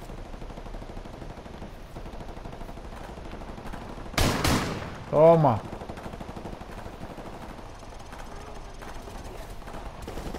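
Gunfire and machine-gun bursts ring out in Call of Duty Modern Warfare gameplay, one sharp loud volley over a steady battle din, as someone talks excitedly nearby.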